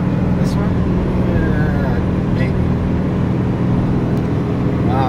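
A Ford F-650 truck towing a heavy camper up a steep 12% grade, its engine droning loud and steady from inside the cab while people talk over it.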